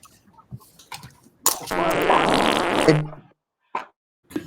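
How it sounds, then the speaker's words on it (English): A loud, drawn-out fart noise, a buzzy blast lasting about a second and a half, stands alone between short bits of distant background chatter. "A fart noise."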